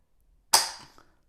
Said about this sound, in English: Now let's do a trigger pull test with the new trigger and springs.